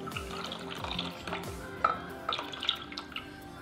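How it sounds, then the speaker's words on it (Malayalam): Milk is poured into a pan for a fruit jelly cake, a quiet liquid trickle with a few drips and light splashes, fairly soft and close. "ഇനി നമുക്ക് ഇതിലോട്ട് പാൽ ഒഴിച്ചു കൊടുക്കാം"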